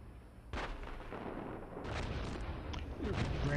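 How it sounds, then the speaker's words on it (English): Incoming gunfire and artillery fire in a heavy, continuous barrage of booms and cracks, with dense rumbling blasts and what sounds like a voice faintly mixed in. "we're taking fire here"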